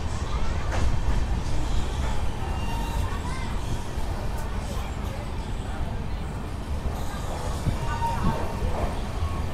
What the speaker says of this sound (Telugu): మన ట్రైన్ వచ్చేసి ప్లాట్ఫామ్ 2కి అయితే వచ్చింది న్యూ ఫరాకా జంక్షన్కి